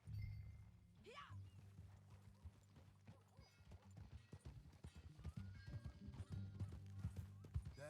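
Horse hooves clip-clop in Red Dead Redemption 2, with a horse's whinny early on and steady hoof beats under a low rumbling game score and occasional voices.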